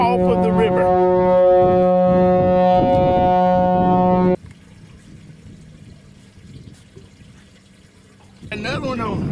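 A loud steady horn-like warning siren sounds for about four seconds to alert people on a river of rising water from upstream, then cuts off, leaving quiet outdoor ambience.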